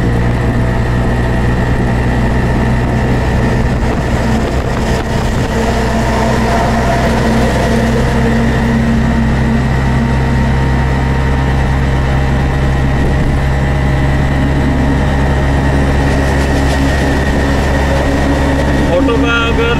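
An old auto rickshaw's engine drones steadily and loudly through a long highway ride between Kolhapur and Mahabaleshwar, with a constant low rumble and hum that continues throughout.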